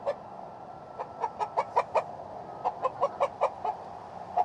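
A hen clucks in a rapid series of short, agitated calls while being caught, close and clear, with a brief pause midway before another burst.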